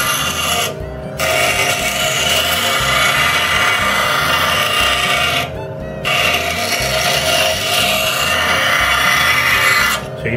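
A steel woodworking card scraper is filed or honed in long, even strokes, loud and close, a steady rasping broken by two brief pauses for a new pass.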